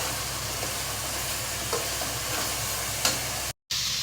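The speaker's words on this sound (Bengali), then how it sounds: "মশলাটা কষিয়ে নিচ্ছি এরকমভাবে" Spice masala sautés in hot oil in a pan for a beef liver dish: a steady crackling sizzle with a few faint scraping stirs, cut by a brief dropout near the end, no voices.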